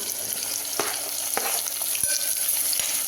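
Tomatoes tossed into vegetables frying in a pan for a mixed-vegetable kuzhambu, a continuous close sizzle with a few light stirring clicks and taps.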